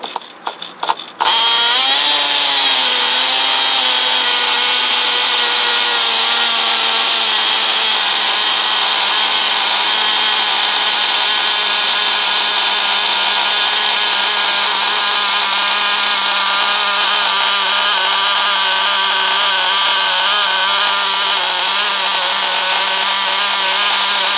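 Nitro engine of an Acme NB16 RC car starts with a short rattling burst, then settles into a loud, close, continuous high-pitched buzzing drone that runs unbroken for over twenty seconds.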